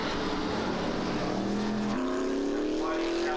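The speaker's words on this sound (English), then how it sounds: "these stock block Formula 5000s putting around about 650 horsepower down onto the racetrack" Stock-block Formula 5000 race car, a Lola T332 making around 650 horsepower, droning steadily on the Christchurch racetrack, its engine note climbing in pitch with a step up partway through, loud and close with continuous roar and faint background chatter.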